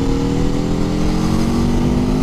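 A 2021 Aprilia Tuono V4 motorcycle engine revs hard and steadily under acceleration in fourth gear, a loud, close, continuous drone with a strong harmonic whine.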